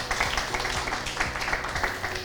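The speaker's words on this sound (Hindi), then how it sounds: "इनके लिए जोरदार तालियां हो जाए।" Clapping from an audience at a company update meeting welcoming a new CEO, a steady patter of many hands at moderate loudness with a faint murmur underneath.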